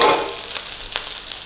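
Pineapple shrimp fried rice with curry powder frying in a hot pan, opening with a loud sizzling burst that fades to a steady crackle, with a few soft stirring scrapes and no talking.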